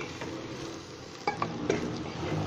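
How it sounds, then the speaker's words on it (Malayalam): Masala frying in a pan over medium heat for an egg roast, a steady sizzle with a few sharp scrapes and clinks as a spoon stirs it, close up and with no talking. "ഇനി ഇതെല്ലാം കൂടെ നമുക്കൊന്ന് മൂപ്പിച്ചെടുക്കണം."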